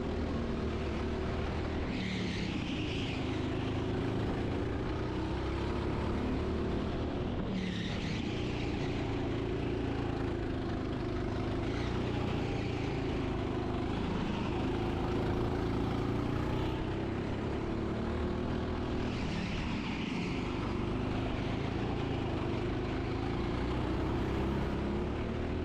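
Go-kart lapping the TeamSport Reading karting track, its small engine droning continuously and rising and falling in pitch through the corners and straights, with no talk.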